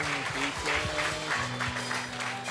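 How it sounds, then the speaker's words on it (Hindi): A church congregation claps together in thanks during a sermon, a short burst of close applause with a voice talking over it. "यीशु मसीह को ताली बजा के एक बार धन्यवाद है"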